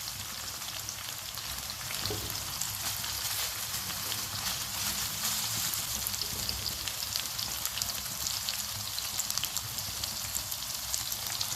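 Chili pepper dropped into a hot frying pan for spicy pennette, a steady, fairly quiet sizzle and crackle of oil running continuously with no talk.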